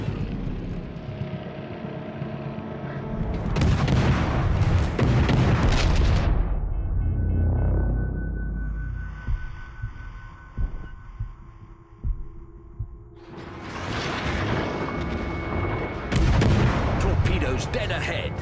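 Warship guns firing in World of Warships: Legends, deep booming salvos with heavy rumbling surges separated by quieter humming stretches, loud and close.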